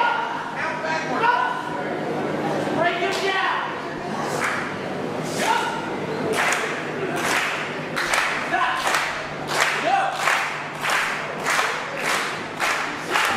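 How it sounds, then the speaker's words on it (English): A wrestling crowd at a Texas Contenders Series tag match cheers and claps in rhythmic bursts behind the Great Ones, with thuds from the ring mixed into the steady roar and commentary running over it. "The crowd getting behind the great ones."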